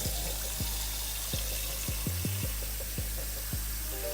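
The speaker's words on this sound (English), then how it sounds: "I'm gonna get my rice, put some water in it." A steady stream of water runs and splashes into a pot of rice, with a few dull knocking thuds spaced through it and no voices.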